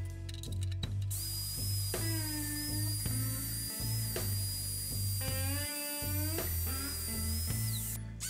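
A high-pitched router whines continuously over a steady motor hum, its tone dipping and rising in repeated bursts as it cuts the electronics cavity into a Les Paul-style electric guitar body.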